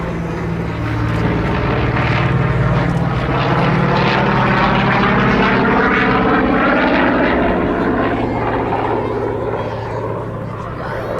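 A Corsair propeller warplane in Fleet Air Arm 1850 Squadron colours flies a solo display at Duxford, making a loud, continuous engine drone with shifting tone as it passes. A commentator talks underneath.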